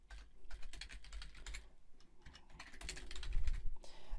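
Rapid typing on a computer keyboard to enter a new library name in screen-recording software, with dense close key clicks running throughout and growing slightly louder toward the end.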